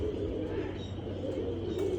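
Pigeons coo at night in their loft, a low, continuous throaty murmur close by with a soft steady hum beneath.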